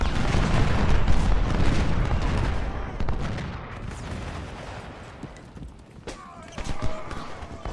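Musket volleys and artillery fire in a Civil War strategy game battle at a train station: dense, rumbling gunfire loudest at first, thinning and fading over several seconds, with a voice talking over it.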